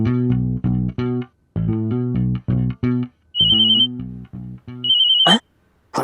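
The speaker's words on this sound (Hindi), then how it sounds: "फोन आ गया।" Phone ringtone playing loud and close: a repeating electronic melody of bright, buzzy tones in short bursts with brief gaps, and a high beep that sounds twice within the pattern.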